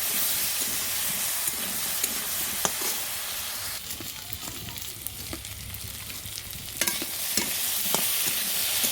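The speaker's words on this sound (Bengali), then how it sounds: "লবণ, হলুদ, এটা ভালো করে ভেজে নেব।" Food fried with salt and turmeric hisses and sizzles steadily in a hot pan, with repeated clinks and scrapes from stirring, close and continuous, with no talking.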